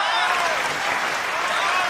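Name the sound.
audience applause at a mushaira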